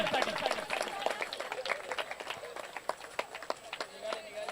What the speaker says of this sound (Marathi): एकदा जोरदार टाळ्या मित्रांनो 2024 कॅलेंडर साठी.